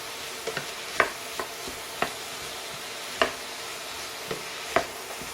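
Meat being stir-fried with vegetables for a homemade curry sauce, with quiet scraping stirs and soft sizzling, several distinct spatula strokes against the pan at irregular intervals, no voices.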